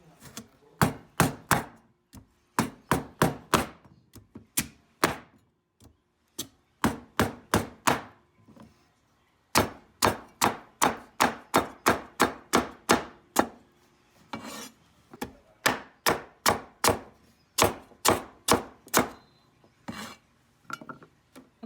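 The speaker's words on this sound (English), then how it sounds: "If you don't want to eat the skin, you just cut off the skin." A knife cuts the skin off a squash on a board, making sharp, rhythmic chopping strikes in quick clusters with short pauses between them, close and clear, with no speech.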